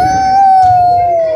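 A small dog howling, a single steady, loud, close howl that is held for about a second and a half.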